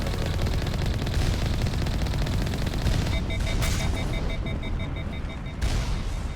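Continuous rapid gunfire in Mass Effect Legendary Edition, loud and sustained, with electronic beeping tones layered over part of it.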